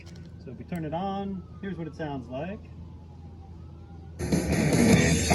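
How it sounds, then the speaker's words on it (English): Gliding siren tones sound faintly in the background while someone talks, then a loud burst of bright, harsh guitar noise from a Marshall stack takes over near the end. "Sorry for the sirens in the background."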